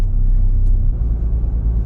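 A car towing a trailer rolls along a deeply rutted road in a Texas state park, heard as a loud, steady low rumble and road roar from inside the vehicle with slight bumps.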